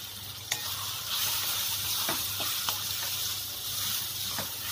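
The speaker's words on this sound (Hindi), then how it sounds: "अभी हम इसमें ये हमारे बॉईल किए हुए मक्के के दाने हैं वो डालती हूँ" Boiled corn kernels tipped into hot oil in a pan give a loud continuous hiss and sizzle, broken by a few faint clicks and taps, with no one talking.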